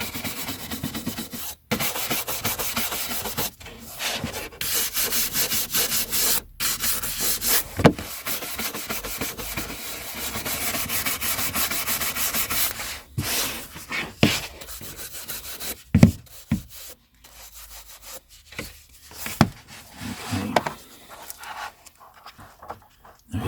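Boards of a vintage hardback book rubbed by hand during cleaning, making a steady close scratchy swishing that runs for a long stretch, then breaks into separate short rubs and taps toward the end.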